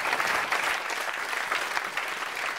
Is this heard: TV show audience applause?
yes